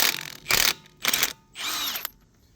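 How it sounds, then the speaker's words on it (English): An impact wrench fitted with a 19 mm socket works the lug nuts on a 2015 Volvo XC60, giving three loud, close hammering bursts of about a quarter second each, separated by short pauses, with no talking. "So we've got our impact set up with a 19 millimeter."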